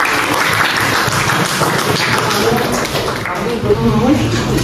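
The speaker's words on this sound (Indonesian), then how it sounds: "Tepuk tangan teman-teman" Classmates clap together in a school classroom during a Pancasila education lesson, a dense, steady patter of many hands lasting throughout, with voices mixed in underneath.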